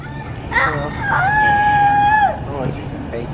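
A toy rooster crows once, a loud, close cock-a-doodle-doo with a long sustained note, amid a noisy background.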